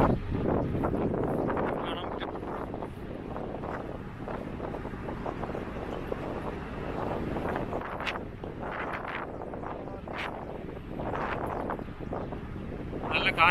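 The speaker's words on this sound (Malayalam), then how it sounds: "നല്ല കാറ്റ് വീശുന്നുണ്ട്." Strong wind rushes and buffets across the top deck of a ship, a loud, gusting roar battering the microphone throughout, with a voice faintly present underneath at times.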